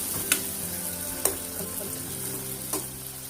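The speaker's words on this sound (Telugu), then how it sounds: "టొమాటోస్ అండ్ ఆనియన్స్ దగ్గరగా అయ్యే వరకు కొంచెంసేపు మనం వేగించడానికి, మగ్గడానికి మూత పెట్టి ఉంచుదాం." Tomatoes and onions fry in a pan for a Godavari-style mango prawn curry, giving a steady low sizzle broken by three sharp clicks of stirring, with no voices.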